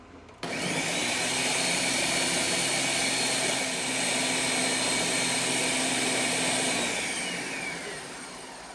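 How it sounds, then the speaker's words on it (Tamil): An electric kitchen mixer blends watermelon for a rose essence cooler, a loud, steady whirring roar that starts suddenly, runs evenly and tapers slightly near the end, heard alone. "இதையும் நம்ம மிக்சியில் அடிச்சுக்கலாம்."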